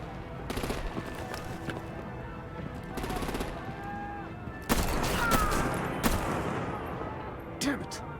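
Gunfire in the Batman: The Enemy Within video game, with dense bursts of rapid automatic fire and booming shots over a noisy action scene, mixed with voices and shouting.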